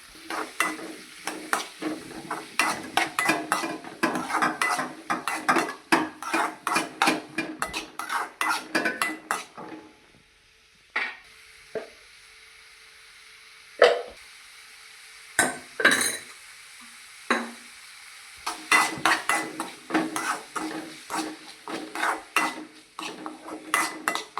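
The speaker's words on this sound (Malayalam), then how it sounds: "ചൂടായതിന് ശേഷം സവാള പച്ചമുളക് കരിവേപ്പില ഓണിയൻ ചില്ലി കറി ലീഫ് ഇട്ട് കൊടുക്കാം" Onion, green chilli and curry leaves stirred in a hot pan, bursts of rapid spatula scraping and clinking against the pan over a light sizzle, pausing midway with a few isolated knocks before the brisk stirring resumes.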